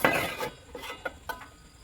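A pot of khichuri, with the gas turned off, is pressed down with a utensil and then covered with a lid, giving a few metallic scrapes and clinks that end in sharp knocks.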